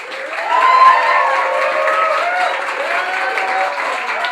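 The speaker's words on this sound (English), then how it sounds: "Please give a big round of applause for Dylan Flynn." A comedy club audience applauds and cheers as a comedian is introduced for his set, a loud, sustained wash of clapping with rising whoops and shouts running steadily through the whole stretch.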